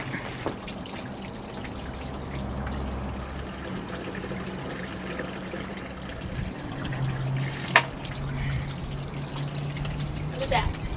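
Spring water trickles and dribbles steadily from a natural spring in Moab, Utah, a continuous close wash of flowing water with occasional drips, while a person talks over it.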